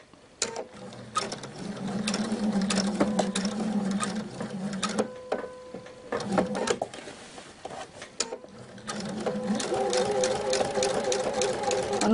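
A domestic sewing machine runs top-stitching across the collar of a tunic shirt, loud mechanical stitching in bursts with short pauses between runs.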